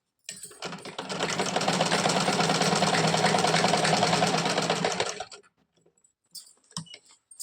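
A sewing machine runs in one steady, close burst of rapid stitching for about five seconds while sewing the seams of a cotton Afghani salwar, then stops, leaving a few faint handling clicks.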